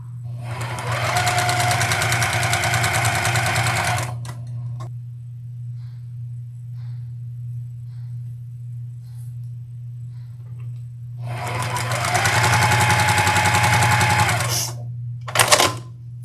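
A sewing machine stitching along a drawn line on a quilt square, two loud rapid bursts of needle clatter separated by a quiet pause with a low steady hum throughout.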